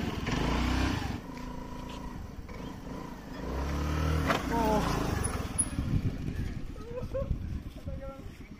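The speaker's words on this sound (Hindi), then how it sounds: "अभी थोड़ा रिक्स लेने वाला है मैं, क्योंकि व्हीली मारने वाला है स्कूटी में" A scooter revved for a low wheelie attempt, with a close, loud engine roar that swells and drops and is joined by rattling mechanical noise and commotion from people nearby.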